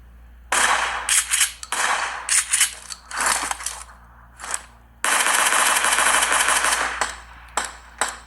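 Gunfire from the PUBG Mobile video game played on a Realme 6 Pro phone comes in bursts of rapid automatic shots. A long sustained volley is followed by scattered single cracks, all loud and close.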